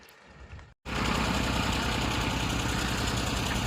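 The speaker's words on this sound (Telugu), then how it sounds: "ఇటు పక్కన ట్రాక్టర్ ఇది కూడా చిన్న ఇంజిన్ ఇది కూడా రన్నింగ్లో అయితే పెట్టారు" After a brief pause, a small-engine tractor at a dewatering work site chugs loudly and steadily nearby, a constant rough idling rumble.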